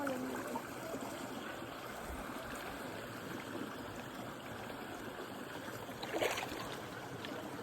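A flowing river current at Mt. Lawad Adventure Park in Bulacan gives a faint, steady, distant rushing wash with no one talking.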